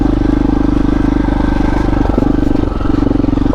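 A KTM 640 single-cylinder motorcycle engine drones steadily while being ridden on a green lane along the Yorkshire coast, a loud, continuous throbbing with a slight dip in throttle partway through.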